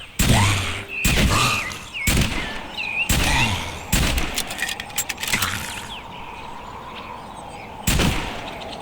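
Gunfire in a VR shooting game: sharp, loud single shots about once a second, a few closer bursts in the middle, then a pause before one last shot.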